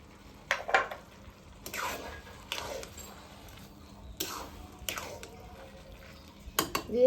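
Spices and garam masala being stirred into a pot of broken-rice bouya bhaat, with several distinct scraping and clinking bursts of a spoon against the pot spaced across the stretch, moderately loud and close.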